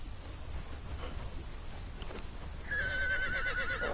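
A horse in the survival game Conan Exiles lets out a loud, close whinny that rises and wavers over the last second, over a rough ambient wind-like background.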